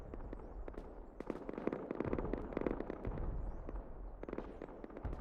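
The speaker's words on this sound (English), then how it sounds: "They just wasted all their rockets." Rocket and explosive blasts in the survival game Rust during a 9v9 base-raiding tournament, a dense rumbling barrage of repeated sharp bangs and crackling booms over several seconds.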